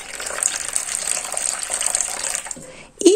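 Warm water poured into a bowl of sourdough starter, a continuous gushing pour for about two and a half seconds, then a brief pause and a short closing splash.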